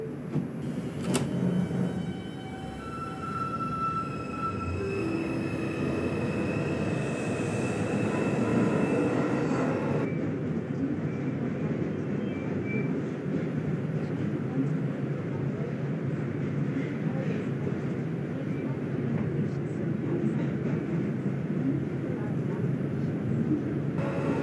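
R142 subway train on the 5 local line running, a continuous loud rumble and rushing roar with a high electrical whine early on, heard from inside the car, the whine cutting off partway while the rumble carries on.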